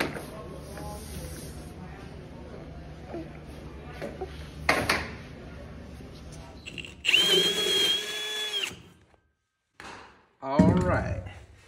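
A power drill bores a large hole for shower plumbing lines in an apartment build. Bursts of drilling come loud and close among quieter handling noises and brief pauses, and people talk at times.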